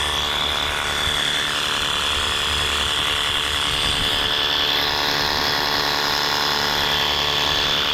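A pressure washer running at a messy creek-side spot, producing a steady, loud, unbroken mechanical whine and hiss with a constant high tone, close by and with no talking.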